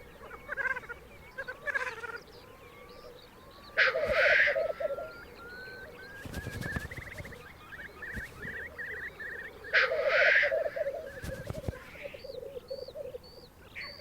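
Black grouse cocks lekking on a spring mountain ground in the High Tatras, with repeated bubbling cooing and sharp hissing calls rising and falling over about fourteen seconds, moderately distant, with no voices.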